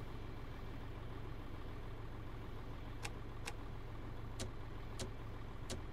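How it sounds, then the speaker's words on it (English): The truck engine in Euro Truck Simulator 2 idles at night as a steady low rumbling drone, with a few sharp clicks over it. "Let's turn on the engine."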